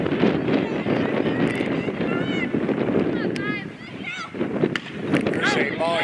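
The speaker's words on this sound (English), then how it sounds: "it is hard to believe how windy it is" Gusty wind buffets the microphone with low rumbling roar while someone talks over it and a crowd murmurs faintly in the distance at a varsity softball game.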